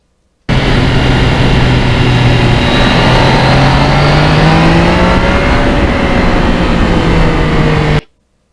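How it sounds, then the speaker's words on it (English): A loud three-cylinder engine of a 2020 Yamaha MT-09 motorcycle roars steadily nearby, its pitch gliding and shifting as the throttle eases, with heavy rushing wind noise throughout. "the sound of that triple as you back off the gas"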